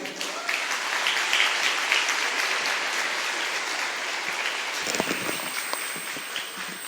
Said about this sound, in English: Can we have another round of applause for our outgoing school leader?